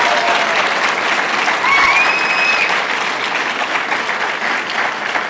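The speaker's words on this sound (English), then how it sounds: "We are now ready for applause for these wonderful platform guests." Applause at a summer high school graduation ceremony for the platform guests, loud and sustained, a broad wash of many hands clapping at once, with a couple of brief whistles early on.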